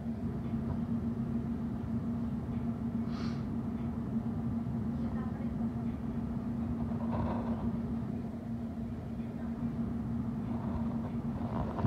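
London Overground train from Euston running toward Watford Junction, a steady loud interior rumble with a constant low hum throughout and faint squeaks and rattles over it.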